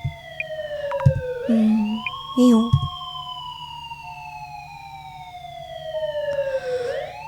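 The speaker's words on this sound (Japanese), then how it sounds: "ピーポーピーポー。" A police siren in the Urban Legend Dismantling Center video game wails in rising and falling tones that sweep across the whole clip, loud and clear, with a short spoken phrase heard over it.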